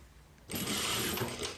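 A sewing machine stitches an invisible zipper: after a brief quiet moment it starts up and runs in a fast, even, close whirring rattle to the end.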